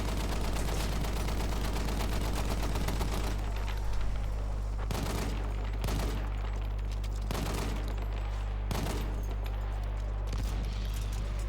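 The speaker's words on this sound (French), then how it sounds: "Ça tire de partout." Battlefield 1 gunfire rattles nonstop on a Verdun battlefield, with dense automatic bursts at first, then a constant barrage punctuated by several loud, sharp shots and booms, all close and heavy.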